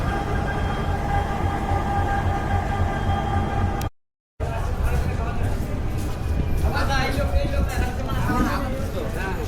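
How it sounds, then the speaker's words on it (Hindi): The Kamakhya Katra Express passenger train stands at a busy station, with a steady low rumble and hum. The rumble cuts out briefly, then returns with crowd babble and people talking nearby. "ये रहा अपना ट्रेन"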